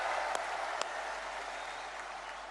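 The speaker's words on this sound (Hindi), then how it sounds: "एक बार दोनों हाथ ऊपर उठा के तालियां बजा के स्वागत कीजिए" Crowd applause welcoming Prime Minister Narendra Modi at a public event in Sagar, a dense, steady clapping heard from a distance, fairly faint, with a couple of sharper claps standing out early.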